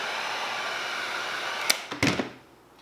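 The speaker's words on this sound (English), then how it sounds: "I'm going to hinge it up and just dry it off with the heat gun here so I can do an instant contact." A heat gun blows hot air to dry a damp vinyl body wrap on a Pro-Line Brute Bash X-Maxx RC truck body. The airflow is a steady, loud hiss, broken near the end by a few handling knocks before the gun cuts off and fades.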